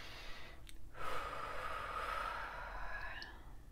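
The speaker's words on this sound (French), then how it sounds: "respire, prends une bonne respiration bien profonde" A slow, deep breath taken during a guided relaxation and energy-healing session, faint and close, a soft airy inhale swelling and then easing out against quiet background hiss.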